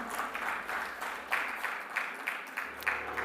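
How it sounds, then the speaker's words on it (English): Audience applause at an awards felicitation ceremony for winners on stage, fairly quiet, with rhythmic clapping pulses continuing throughout. "big round of applause."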